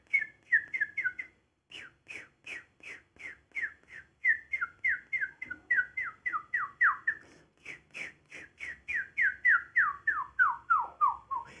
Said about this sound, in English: You hear this tiny whistle sound and you do it without pronouncing the word.